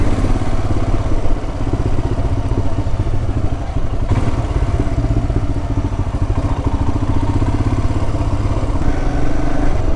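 A Royal Enfield Himalayan motorcycle rides along a road near Castleton with a steady, loud single-cylinder engine thrum and wind rush, continuous throughout with no talking.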